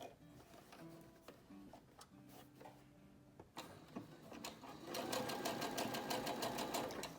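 A sewing machine zigzag-stitches over a wire inside a triple-layer cotton mask, starting with a few short bursts of stitching and then settling into a rapid, steady, loud run of needle strokes near the end.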